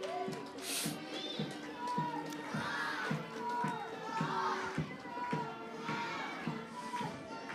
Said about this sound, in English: a big round of applause for the Girls Brigade, the 28th Girls Brigade of Greystones